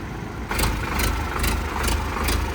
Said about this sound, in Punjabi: ਇਹ ਟਰੈਕਟਰ ਚੱਲਿਆ ਆਪਣਾ ਫਤਿਆਬਾਦ ਕੋਲ ਜੀ